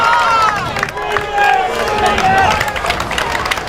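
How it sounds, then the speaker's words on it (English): Spectators at a high school football match between Grosse Pointe South and Grosse Pointe North shout and call out together in a loud, sustained roar, with overlapping voices and some cheering. "you now hear the crowd saying, you can't do that"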